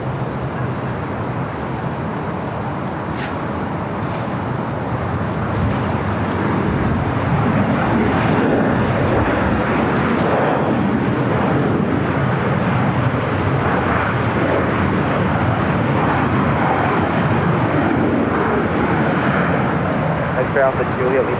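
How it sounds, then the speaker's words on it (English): An American Airlines Boeing 737-800 landing at LAX sends out a broad, steady roar that grows louder after the first few seconds and holds. Distant traffic hum sits beneath it and radio-style voices talk over it. "that was American Airlines flight 1987 coming in from Chicago O'Hare, 737-800"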